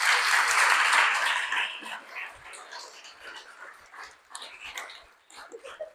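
Audience applause for panelists at a community transit forum, loud clapping at first that thins out over several seconds, with a dog whimpering and yipping in the room.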